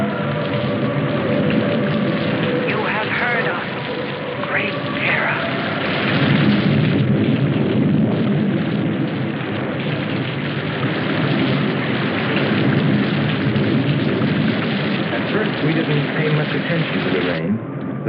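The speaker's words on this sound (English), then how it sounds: "it seemed heavier than any rain we'd ever seen" Heavy rain pours down in a continuous, dense roar that stays loud and steady throughout, with faint rumbles and scattered voices buried beneath the downpour.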